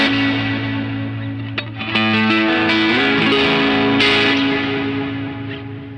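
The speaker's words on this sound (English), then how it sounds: "And then we add in the Lucky Cat for an extra bit of swirliness." Electric guitar played through overdrive, reverb and a Lucky Cat delay pedal: sustained distorted notes and a bending chord ring out loud and close, trailed by swirling echoing repeats and washy reverb tails.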